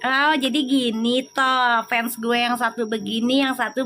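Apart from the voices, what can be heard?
No everyday noises stand out.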